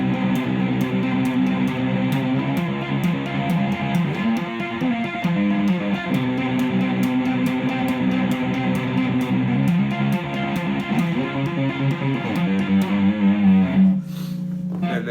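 Heavily distorted electric guitar riff from a metal song, played continuously and loud with steady chugging low notes, ending in a brief pause and a sustained low chord.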